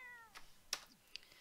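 A pet cat in The Sims 4 gives a short meow, followed by a few faint, sharp clicks and ticks, all quiet against a near-silent background.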